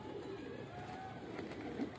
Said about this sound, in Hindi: पड़कता हुआ कबूतर।